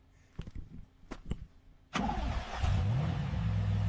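A turboed Camaro in a video game fires up after a quiet stretch of faint clicks and thumps. The engine catches abruptly, then settles into a loud, steady running roar with a slight rising rev.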